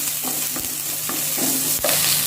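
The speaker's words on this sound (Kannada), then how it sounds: "ಒಂಚೂರು ಕರಿಬೇಕು ಒಂಚೂರು ನೀರುಳ್ಳಿ ಒಂಚೂರು ಫ್ರೈ ಮಾಡ್ತದೆ" Curry leaves and onion fry in a hot pan, a close, even sizzle broken by a few quick stirring scrapes, with no talking.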